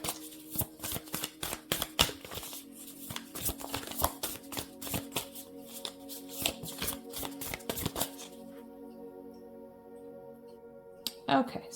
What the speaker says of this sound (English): let's get a few cards here for the Leo energy here for Leo season